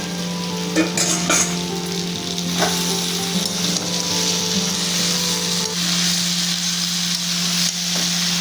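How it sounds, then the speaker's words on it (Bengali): Young jackfruit and pre-fried potatoes stir-fry together in a pan, giving a dense, continuous sizzle close up. A steady low hum runs underneath and a few spatula knocks come early on, with no talking. "এবার আমি ভেজে রাখা আলুগুলো এঁচড়ের মধ্যে দিয়ে 2 মিনিট কষিয়ে নেব"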